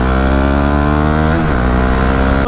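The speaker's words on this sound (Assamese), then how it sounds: "বেক ফায়াৰ শুনাম বুলি কৈছিলোঁ, শুনাই আছোঁ এতিয়া" A Bajaj Dominar 400 motorcycle with an aftermarket exhaust revs loudly and steadily close by, the engine note dipping slightly midway; no distinct backfire pops stand out.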